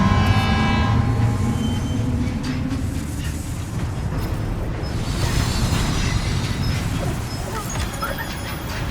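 A monorail train runs in the video game Death Stranding 2, with a loud, steady rumble of rolling wheels and metallic tonal whines overhead, continuous and near.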